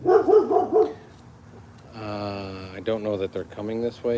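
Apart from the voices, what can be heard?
dog barking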